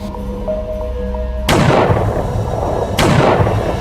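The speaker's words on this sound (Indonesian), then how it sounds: "Suara tembakan itu terdengar hingga ke area perkemahan, memicu kepanikan di antara para peserta" Two loud, sharp gunshot sound effects spaced about a second and a half apart, each with a long, fading reverberant tail, following a quiet stretch with a faint steady tone.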